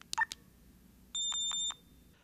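A brief chirp, a pause, then three high-pitched electronic beeps from an iBill talking banknote identifier signalling a $50 note, run together in a steady row, loud and near with nothing else around.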